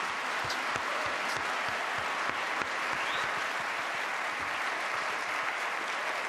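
Studio audience on a Dutch television game show breaks into sustained, dense applause that stays loud and even throughout, a steady wash of clapping with no voices over it.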